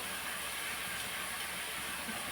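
Taro roots frying in a pan of oil, a steady, continuous bright hiss and sizzle that holds evenly throughout at close range.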